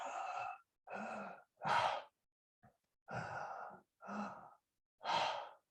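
Open-mouth belly breathing as a breathwork exercise: six long, close breaths in a slow, even rhythm, with pauses of silence between them and a faint catch partway through.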